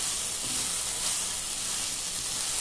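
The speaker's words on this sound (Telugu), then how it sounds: "చిక్కుడుకాయల్ని నూనెలో వేగనివ్వండి." Broad beans frying in oil, a steady broadband sizzle with a soft hiss that holds evenly throughout the short stretch, no voices present.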